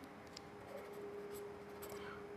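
Pen writing on paper while working a probability math problem, faint close scratching strokes over a steady low background hum, no talk.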